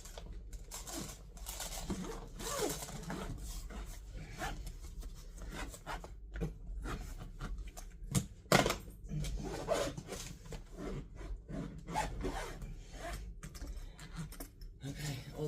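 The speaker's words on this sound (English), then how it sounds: "Okay, all zipped." A zipper being dragged shut around a tightly packed suitcase gives raspy, scraping pulls in short bursts with small pauses, fairly close, and some sounds of handling.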